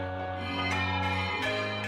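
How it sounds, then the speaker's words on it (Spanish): Parish church bells of Jabalí Nuevo ring out in a sustained, resonant peal, with overlapping tones and a few fresh strikes layered on the lingering hum. "Repican las campanas de la parroquia de Jabalí Nuevo en memoria del Padre Diego,"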